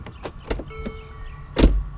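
The touch-activated door handle of a Mercedes-Benz CLA gives a few quick mechanical clicks and a faint motor whir, then a louder, solid thunk near the end, all close up.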